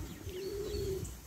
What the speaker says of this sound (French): Et là c'est des pigeons avec un faisan